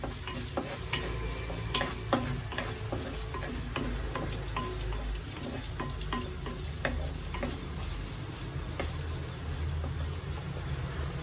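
Garlic, onions and spices frying in a pan for a Kerala-style Ayala (mackerel) chilli curry, with a steady close sizzle and repeated clinks and scrapes of stirring throughout.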